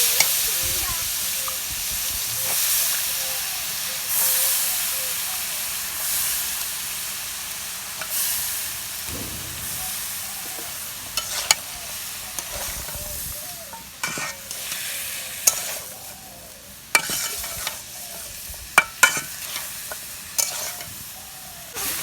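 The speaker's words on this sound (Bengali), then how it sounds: "লতিগুলো কষিয়ে নেব।" Taro stolons are sautéed with spices in a village home kitchen, with steady frying sizzle and stirring scrapes throughout, sharper clatters of the spoon against the pan toward the end.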